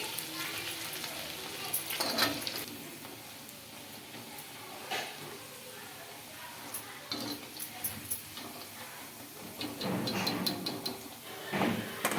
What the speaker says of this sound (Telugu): చూడండి ఇలా మనం బాగా కలుపుకుంటూ ఫ్రై చేసుకోవాలి ముక్క అనేది మనకు బాగా ఉడుకుతుంది